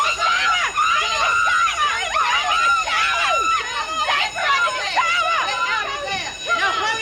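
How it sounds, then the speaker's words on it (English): Fire alarm going off in a prison cell block, a loud warbling electronic siren that rises and falls in repeated sweeps. Shouting and a babble of agitated voices run beneath it throughout. "Listen, that's the fire alarm."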